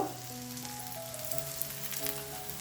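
Wheat flour and cabbage batter sizzles steadily in oil on a cast iron tawa, a close, even crackling hiss with faint tonal hum behind it.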